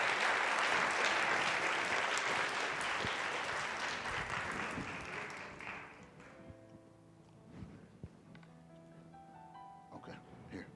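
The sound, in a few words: applause as panelists walk to the stage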